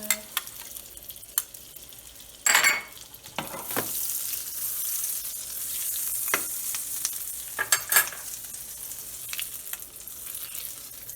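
Oil sizzling and frying in a pan while ingredients for an Algerian tagine with quinces and prunes are browned, a steady bright hiss with occasional stirring scrapes and louder bursts of crackle.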